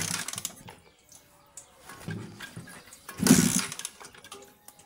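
A Honda CBR motorcycle with its battery removed is kick-started, giving several short rasping mechanical bursts spaced a second or two apart, the last the loudest, without settling into a steady running note.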